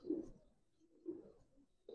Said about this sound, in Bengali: একবারে ইয়াং কবুতর, দুইটা কবুতর দেখেন